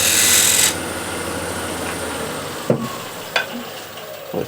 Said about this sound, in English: Just finesse the bead here by shear scraping